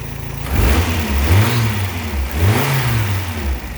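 A freshly built Jasper 22R engine revving loudly and close, with two rising-and-falling throttle blips over a steady idle.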